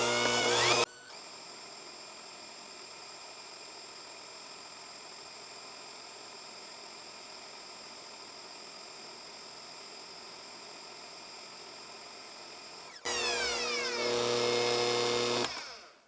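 Electric mixer whipping frosting at its highest speed, a steady high-pitched motor whine with a constant tone, briefly louder and rougher at the start and again near the end before cutting off.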